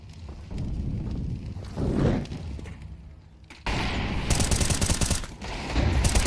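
Rapid pistol shots pop in quick succession during a Counter-Strike match, first muffled and distant, then louder and denser in a sustained exchange of fire, over a low game background hum.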